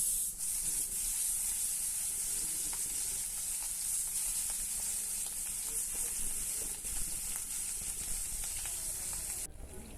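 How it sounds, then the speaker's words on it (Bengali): Hilsa fish pieces frying in oil for a Bengali festive thali, giving a loud, continuous close sizzle and hiss that holds steady throughout and drops off only briefly near the end. "এখানে কিছু ইলিশ মাছ ভাজা করে নেব"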